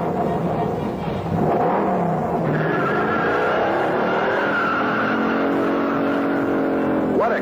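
A 1969 Dodge Charger 500 with a HEMI V8 and TorqueFlight automatic launches hard on a road test, its engine roaring loudly and steadily close by while the tires squeal throughout.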